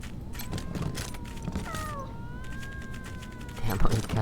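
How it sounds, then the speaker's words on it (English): Cats in the video game Wasteland 3 giving several drawn-out meows that overlap in the middle, over steady game background noise and a low rumble. "Yep, they make that meow sound and they"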